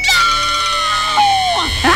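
A girl lets out a long, piercing scream, loud and close, holding a high pitch before it bends downward and breaks into shorter cries.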